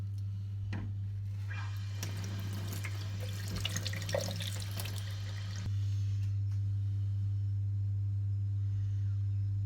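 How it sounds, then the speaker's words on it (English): Water from a tap splashes over a steel Corgi toy baseplate in a sink, with a steady close rush and a few clinks, then the flow thins to a quieter trickle over a constant hum. "I just give it a rub and then a rinse"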